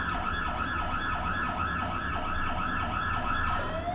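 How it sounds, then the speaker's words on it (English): An ambulance siren from the Emergency 4 video game wails in a repeating up-and-down cycle, steady and continuous over the engine hum, loud and unbroken throughout. "So this is an ambulance."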